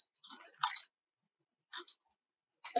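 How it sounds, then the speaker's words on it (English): Computer mouse clicks sound close and crisp in quick pairs, with short gaps of silence between the groups. "Otherwise, you're going to double click"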